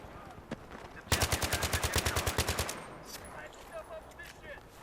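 Automatic gunfire bursts in Battlefield 3 on Sharqi Peninsula: a rapid run of about fifteen loud, evenly spaced shots, then scattered fainter sounds and someone talking over the game.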